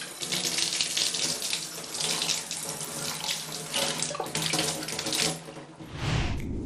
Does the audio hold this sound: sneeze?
no